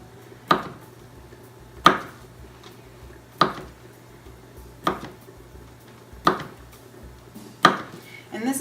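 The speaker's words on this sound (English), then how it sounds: "You're going to cut them in half." A knife cutting food in half on a board for a Fourth of July backyard picnic, six sharp evenly spaced chops about every second and a half, close and clear over a low background hum.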